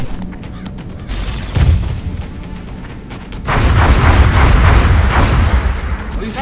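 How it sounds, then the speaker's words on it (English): Heavy gunfire and explosions in XCOM: Enemy Within, with booming thuds and a denser, louder barrage of shots in the second half, loud and close. "Heavy fire near my location."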